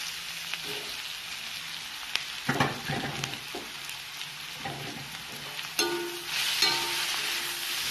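Onions and tomato sautéing in a pan for a potato masala curry, with a continuous hissing sizzle broken by bursts of spatula stirring and scraping, fairly close, no voices.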